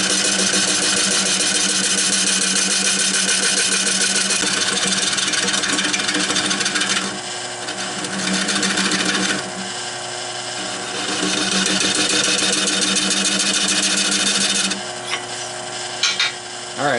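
Wood lathe running loud and steady while a tool hollows out a wild cherry bowl, with a continuous rasping cut that dips and returns as the tool lifts and re-engages.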